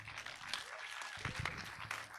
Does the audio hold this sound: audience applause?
yes